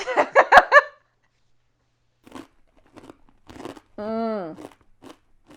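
Sharp, close crunching from a bite of a crunchy, pasta-shaped, barbecue-flavored vegan snack, with several rapid crackly bursts in the first second, then near silence and a brief voice later.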